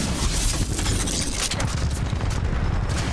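Sustained heavy gunfire and explosions from mech titans in the shooter game Titanfall 2, a dense rumbling barrage that stays loud and close for the whole stretch, with no speech.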